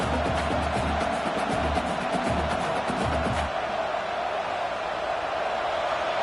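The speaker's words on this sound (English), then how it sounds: "this crowd is fired up. Listen to this noise here." Stadium crowd roaring in the video game College Football 26, Miami at Texas A&M, a dense wash of cheering noise with rhythmic low chanting or stomping pulses in the first half, then a steady roar.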